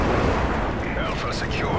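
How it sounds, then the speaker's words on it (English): Airstrike explosions from the video game Carbon Domination, a dense, continuous roar of blasts and rumbling that fills the whole moment, with a voice speaking over it. "Enemy UAV spotted. Airstrike approaching."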